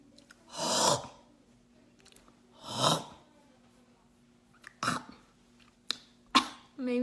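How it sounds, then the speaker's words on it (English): Several separate coughs and throat-clearing hawks come close up in a quiet room, spaced out with pauses, the last few short and sharp. "Maybe I coughed a little or hawked a little too long."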